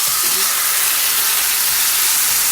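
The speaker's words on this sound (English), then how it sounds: "I want a good sear." Marinated steak searing in a very hot pan gives off a loud, steady sizzling hiss, close up and continuous throughout the short stretch with no voices.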